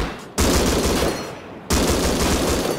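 Two sustained bursts of rapid automatic gunfire from a gun in the video game Rust, loud and dense with a short gap between them and no talk.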